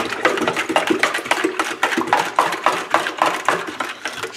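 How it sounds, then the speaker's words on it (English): Ingredients stirred in a bowl for a sous vide London broil marinade, with a steady run of quick scraping, clattering strokes, close and fairly loud, with no voices. "So let's go ahead and stir this in."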